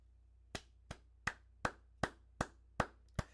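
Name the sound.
applause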